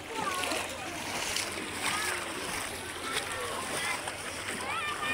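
Water splashes and sloshes continuously as someone wades into cool sea water, close and steady, with voices, including a child, faintly in the background.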